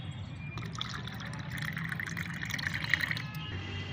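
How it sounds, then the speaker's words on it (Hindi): Plain water poured into a container of homemade plant fertilizer to dilute it, a steady close-up splashing and trickling lasting several seconds with no talk. "उसका 2 भाग आपको इसमें सादा पानी मिलाना है।"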